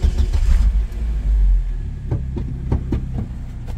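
Opel Speedster engine firing up after the start button is pressed, a loud initial rumble and rev followed by a settling idle with short throttle blips, close and alone.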